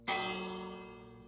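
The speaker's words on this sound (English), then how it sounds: "The bell's still here." A single bell struck in Minecraft rings out clearly and loudly, then decays slowly in a long, resonant ringing tail, with nothing else heard.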